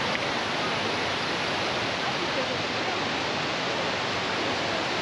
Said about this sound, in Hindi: इस पार्क में जो वाटरफॉल्स हैं ये इंतहाई खूबसूरत हैं, और पानी कम होने के बावजूद ये इतनी पावरफुल हैं